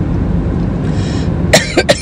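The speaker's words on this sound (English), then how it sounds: "still have the cough" A sharp cough rings out near the end, followed by two quicker coughs, over a steady low background rumble inside a car.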